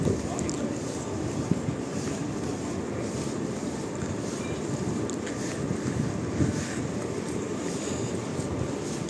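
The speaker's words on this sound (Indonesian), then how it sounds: "Angin ya, syahdu." Wind gusts buffet the microphone outdoors in Madinah, a steady loud rumble with low roar throughout the stretch, no talking.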